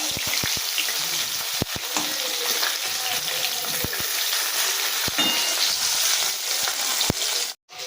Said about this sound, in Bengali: এবার আমি উল্টো দিয়ে মাছের অন্য পিঠগুলো একইভাবে ভেজে নেব।